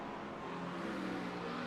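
A race car engine in the iRacing sim at Spa-Francorchamps roars steadily and a little louder toward the end, a dense continuous motor drone with no voices.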